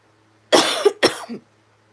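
A person coughs twice in quick succession, close and loud, with quiet before and after.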